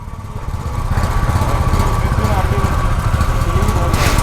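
A Royal Enfield Bullet motorcycle engine runs steadily close by, giving a loud, even, throbbing thump that rises slightly after the first second and holds.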